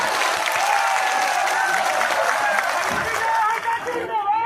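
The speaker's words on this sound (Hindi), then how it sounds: "इनके लिए भी एक जोरदार ताली मार दीजिए भाई" A crowd at a political gathering claps loudly and steadily for a few seconds, with a voice talking over the applause before it thins out.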